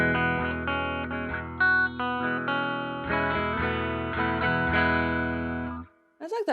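Bright, shimmering electric guitar chords processed through a MoogerFooger filter pedal plugin's texture tones preset, played steadily for several seconds before stopping abruptly.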